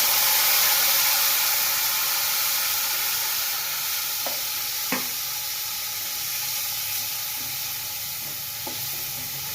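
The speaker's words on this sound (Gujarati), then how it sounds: "મસાલા સટકી જાય એટલે આપણે ટમેટાની મરચાંની ગ્રેવી નાખીએ." Tomato and chili gravy sizzles loudly in about three big spoons of hot oil with tempered spices for a desi black chana curry, a broad steady hiss that slowly eases, with a couple of spoon clinks.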